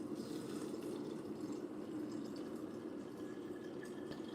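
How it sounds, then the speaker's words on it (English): Cold water pouring into a container over a single tea bag, a quiet, steady rushing fill with no pause, heard alone. "I'm gonna fill it with cold water."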